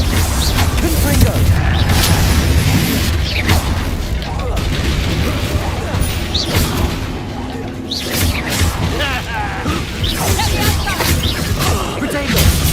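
Confringo explosive spell blasts in Hogwarts Legacy, loud booming bursts and crashes amid chaotic combat effects, with shouted spell incantations over the top.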